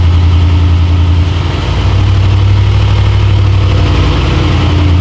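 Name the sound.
pickup truck engine idling unevenly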